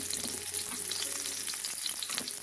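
Large green chilies dropped into hot oil, a bright dense sizzle and spatter that stays steady and loud throughout the short stretch, close, no talk.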